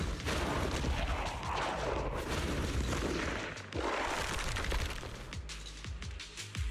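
Missiles exploding over a city in Zenless Zone Zero, a heavy rolling barrage of deep booms and crackling blasts that runs almost continuously, with a brief dip midway before the rumble surges again.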